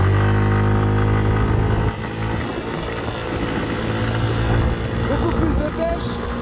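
A converted bus camper van engine at full throttle, a loud, steady droning roar with a rising engine note, heard from inside with someone talking over it.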